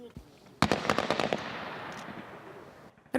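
Live weapon gunfire on a military obstacle course during National Guard reservist training: one sharp loud report followed by a quick burst of cracking shots, then a decaying echo, with another blast at the very end.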